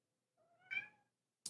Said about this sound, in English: being distracted by the craziest cat